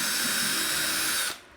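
A power drill boring a hole through a model railroad layout table for feeder wires, a loud steady high whine lasting just over a second before stopping abruptly, with no talking.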